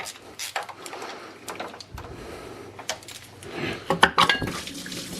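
Coolant spilling out as the water pump is pulled from a BMW M3 sedan, splashing and dripping liquid with metallic clinks and knocks, close and intermittent, busiest near the end.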